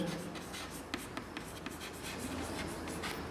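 A pen or marker moves over a board or paper, writing out a word in an ongoing scratchy rhythm with brief taps between strokes, close and steady, with no voice.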